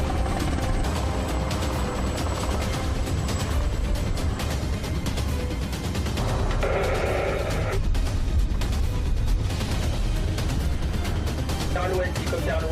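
A rescue helicopter flies over the sea during a rescue exercise, its steady, loud rotor and engine roar filling the whole stretch without a break.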